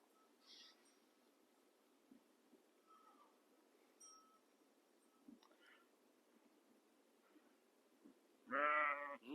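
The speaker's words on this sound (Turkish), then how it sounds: "Bakın bunlar bizim keçilerimiz." A quiet village background with faint scattered noises, then one loud, close goat bleat near the end.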